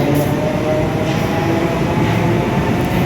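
A metro train at a station at night sends out a steady, loud rumbling roar with no gaps.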